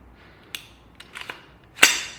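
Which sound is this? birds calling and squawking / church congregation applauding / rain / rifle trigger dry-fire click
rifle trigger dry-fire click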